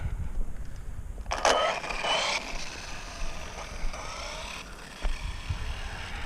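An Arrma Typhon 6S RC car with a TLR tune and stock motor makes a high-speed pass outdoors, its shrill electric whine rising sharply and sweeping past within about a second before fading back into steady background noise.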